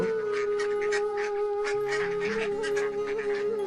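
Cartoon ducks quack repeatedly in a lively, honking chorus over a sustained musical tone, close and fairly loud, with no speech.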